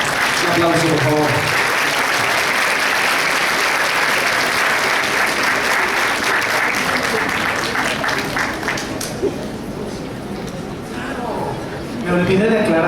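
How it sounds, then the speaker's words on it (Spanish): A conference audience breaks into sustained applause with crowd chatter mixed in, loud at first and thinning toward the end as a voice begins speaking over the fading clapping. "Un aplauso, por favor."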